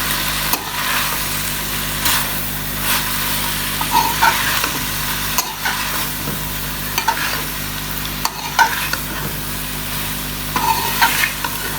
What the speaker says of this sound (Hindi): हम इसके अंदर कैबेज बंद गोभी डाल रहे हैं।